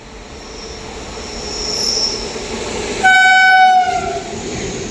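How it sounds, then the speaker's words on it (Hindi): The August Kranti Rajdhani Express, running as a Tejas Rajdhani, pulls into an Indian station. Wheels rumble and squeal steadily, and a loud, sustained horn blast sounds partway through before the train's rolling noise continues. "अगस्त क्रांति राजधानी एक्सप्रेस आ चुकी है"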